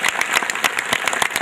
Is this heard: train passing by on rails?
no